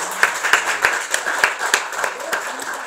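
A church congregation at a Korean worship service applauds, with quick, rhythmic hand claps from a group close by in a short burst.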